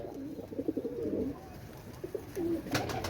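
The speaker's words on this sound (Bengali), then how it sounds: "এক জোড়া জন সিরা টেডি কবুতর ভাই" A pair of John Cena Teddy pigeons cooing softly in short murmured bursts, close by, with a brief louder rustle near the end.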